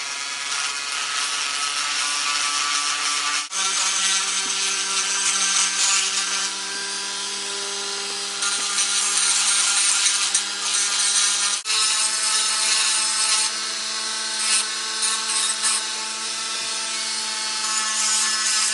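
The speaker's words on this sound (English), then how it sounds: "Voy a usar el Dremel para aumentarle para que agarre mejor la pasta que voy a usar." Dremel rotary tool grinding the cracked bandana of a plastic Teenage Mutant Ninja Turtle figure, a steady high-pitched whine with a rough abrasive edge, pausing briefly twice and running close and loud with no talk.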